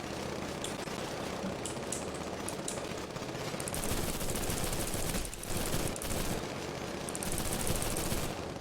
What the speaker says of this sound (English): use the LMGs. Go! Machine gun them!